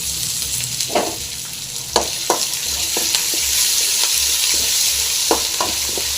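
Garlic and onion frying in a pan with chana dal and curry leaves for a bottle gourd stir-fry, giving a steady close sizzle broken by regular scraping strokes of a stirring spoon, with no talking.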